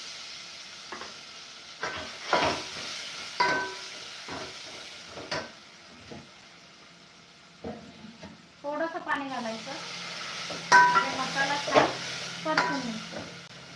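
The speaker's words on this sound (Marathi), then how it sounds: "मसाला छान परतून घेते" Masala with finely chopped tomato sautéing in a pan, giving soft intermittent sizzles and stirring scrapes, with voices talking in the background and a louder, busier stretch of frying in the second half.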